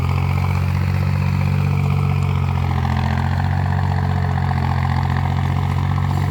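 An old YTO 454 farm tractor engine idles steadily up close, a loud continuous low chugging throb with metallic clatter and no voices over it.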